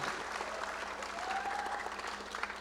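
Congregation applause at a Zotung Christian church service in Kansas, a steady wash of hand clapping filling the room throughout, with faint voices mixed in.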